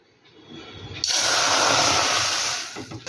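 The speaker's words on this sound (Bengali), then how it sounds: "তার জন্য কড়াইয়ে দেব পরিমাণ মতো জল" Water poured into a wok to start a sugar syrup for bundia, a loud steady gushing hiss that begins abruptly, runs about a second and a half, then tapers off, with no talking.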